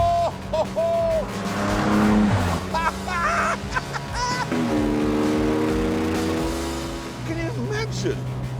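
A 1961 Jaguar E-Type convertible, the very first one built, revving its engine in loud rising and falling bursts close by, with a man exclaiming over the noise.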